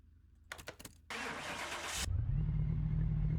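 Engine of a Nissan Skyline GT-R R34 starting in Car Mechanic Simulator 2021, a few short starter cranks, a brief burst of loud cranking, then the engine catches and settles into a low, steady idle.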